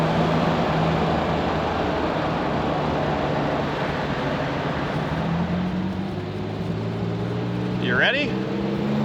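A 1959 Jaguar XK150 driving at higher speed: a steady, loud engine drone with rushing wind and road noise, the engine tone slowly climbing, and a brief squeak near the end.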